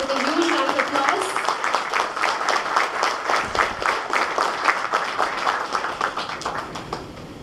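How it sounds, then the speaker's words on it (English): An audience at a hotel general managers' club meet applauds loudly, with a dense, sustained burst of many hands clapping close by that fades somewhat toward the end. "let's all thank sir with a huge round of applause."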